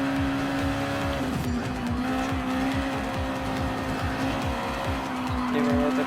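A Honda NSX Super GT race car in Gran Turismo Sport howls at high revs, with rapid rhythmic gear-shift sweeps and a sustained tire squeal through the corners. The engine stays loud and close throughout, with no talking.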